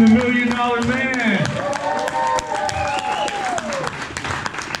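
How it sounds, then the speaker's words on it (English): A convention crowd at a pop culture con in Oklahoma City applauds wrestlers Bushwacker Luke and Ted DiBiase. There is a continuous wash of clapping with voices and a tonal sound over it. "let's give a big round of applause and welcome to Bushwacker Luke and Ted DiBiase, the Million Dollar Man"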